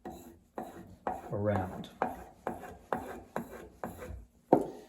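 A chairmaker's inshave bevel is drawn repeatedly across flat leather on a strop, giving a steady series of short rubbing strokes at close range, about eight in five seconds, with a brief spoken word partway through.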